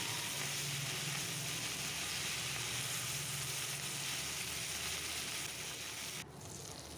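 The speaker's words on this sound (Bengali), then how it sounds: "আমি ভালোভাবে একটা একটা করে মাছ উল্টে দিচ্ছি যাতে সবগুলো মাছ ভাজা হয়ে যায়" Small fish frying in hot oil in a pan, a steady close sizzle and hiss that carries on evenly with a slight drop near the end.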